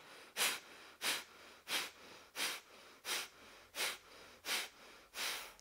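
Kapalabhati yoga breathing during a hormonal yoga therapy routine: eight sharp, forceful nasal exhalations in a steady rhythm about one per 0.7 seconds, close and fairly quiet.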